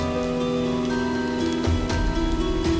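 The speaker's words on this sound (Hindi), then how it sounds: "अब इतनी बारिश में तुझे क्या काम दूं?" Heavy rain pours steadily, a close, even wash of drops on surfaces with a few louder splashes toward the end, with no talking.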